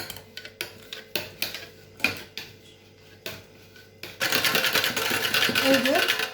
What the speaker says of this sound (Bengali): এবার হ্যান্ড বেটার দিয়ে সুন্দরভাবে নাড়তে থাকবে